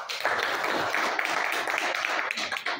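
An audience applauding the technical teams at a partnership agreement signing with SOS Children's Villages in Guinea, a steady, dense wash of clapping held at an even level throughout.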